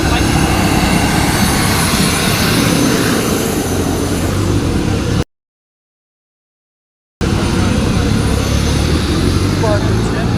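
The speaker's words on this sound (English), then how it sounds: "It has a Rolls-Royce turbine engine in it." Jet-powered motorcycle with a Rolls-Royce turbine engine, running at a car meet, gives a loud, steady broadband roar and whine that fills the clip, cut by a brief dropout midway.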